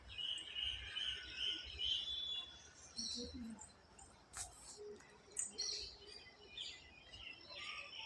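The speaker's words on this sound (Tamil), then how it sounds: "பாருங்களேன் குருவிகளுடைய சவுண்டெல்லாம் எப்படி கேட்குதுன்ட்டு" Sparrows chirp and twitter at dusk from a rooftop terrace, with steady high calls from several birds at a moderate distance over faint insect hum and background noise.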